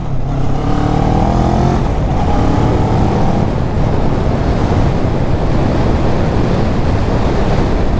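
A 2022 CF Moto 650NK motorcycle rides and accelerates, its engine drone climbing in pitch at the start under heavy, constant wind roar that dominates the whole stretch.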